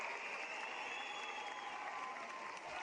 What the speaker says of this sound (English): Austin Smaley's leaving the court here at Reed Gym for the final time to a standing ovation from this Reed Gym crowd